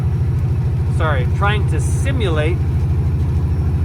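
A truck engine lugs down near 1500 rpm during break-in, a deep steady low rumble that pulls hard and continuously. Someone talks briefly over the engine in the middle.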